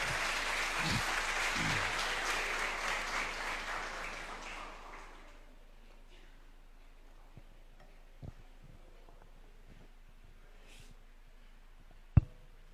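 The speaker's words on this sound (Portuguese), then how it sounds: "Uma salva de palmas para eles." A crowd claps steadily for several seconds, then the applause fades out into a quiet room with a couple of faint knocks and one sharp click.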